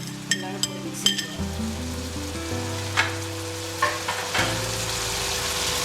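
Vegetable fried rice with pepper powder, garam masala, mint and coriander leaves sizzles in a pan, with repeated spoon scrapes and a few metallic clinks as it is mixed, close and fairly loud.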